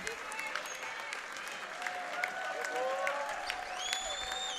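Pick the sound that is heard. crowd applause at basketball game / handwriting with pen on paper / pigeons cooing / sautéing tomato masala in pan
crowd applause at basketball game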